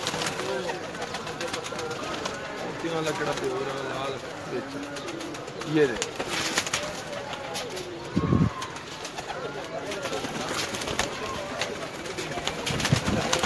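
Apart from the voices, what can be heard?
pigeons cooing in a loft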